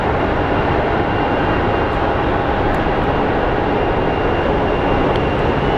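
An Air Canada airliner approaching Phoenix Sky Harbor airport, heard as a steady, loud broadband engine roar that holds without a break throughout.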